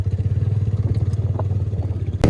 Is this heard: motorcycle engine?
yes